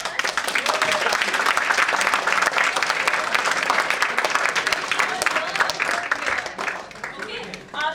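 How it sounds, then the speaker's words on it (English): An audience claps through a round of applause at a valedictory ceremony, with dense, lively clapping that stays loud for several seconds and then thins out and fades slightly near the end. "So huge round of applause for all of us."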